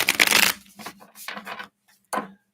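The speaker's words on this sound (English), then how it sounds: "Shuffle that one more time." Cards being shuffled in a quick riffle, followed by a few shorter shuffling bursts and a brief final riffle, close and crisp.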